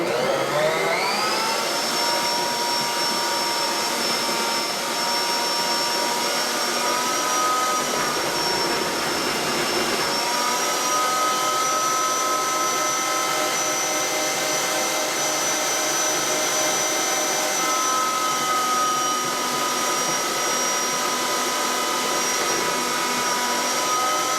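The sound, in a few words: Bosch Universal Plus slicer shredder shredding cabbage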